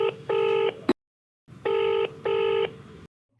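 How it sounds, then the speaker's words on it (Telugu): Telephone ringback tone from an unanswered call, two long buzzing rings separated by a pause, then a brief gap and silence at the end, alone without talk. "లిఫ్ట్ చేయట్లేదు, రింగ్ అవుతుంది కానీ."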